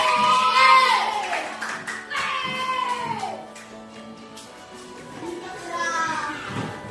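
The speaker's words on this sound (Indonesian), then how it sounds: "Mari tepuk hebat untuk dapat dulu." A classroom of children chants the 'tepuk hebat' clapping routine, led by their teacher: lively group voices in rhythmic call-and-response, with light hand claps mixed under the chanting.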